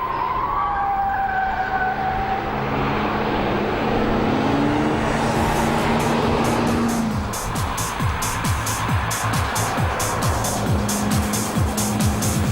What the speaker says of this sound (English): it of course includes driving at over 200 kilometers an hour on the high-speed oval of the testing ground